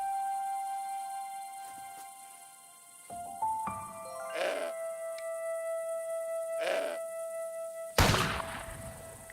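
Goat bleating in the video game Broken Sword 5: The Serpent's Curse, a few short cries standing out over a steady tonal music bed, with a sharper burst near the end.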